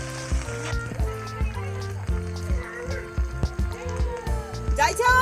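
Spice paste mixed with onion paste fries and sizzles in a pan for a snakehead fish curry, a steady crackle running beneath a person talking.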